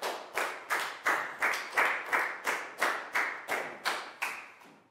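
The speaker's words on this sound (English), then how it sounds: "Big round of applause for Chu," A classroom of Year 4 pupils claps in about a dozen evenly spaced bursts, a steady rhythmic clap-clap-clap close by and loud, with no talking over it.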